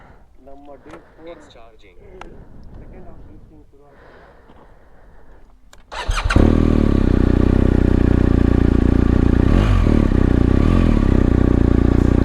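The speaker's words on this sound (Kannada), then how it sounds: "ಗಾಡಿ ಆನ್ ಮಾಡಿದ ತಕ್ಷಣ ಒಂದು ಸತಿ ಹಿಂಗೆ ಅಲ್ಲಾಡತ್ತೆ ಏನಂದ್ರೆ ಬಾಕ್ಸರ್ ಇಂಜಿನ್ನು" A boxer-engine motorcycle cranks and catches, then settles into a loud, steady throbbing idle close by, following a few seconds of quieter rustling and talk.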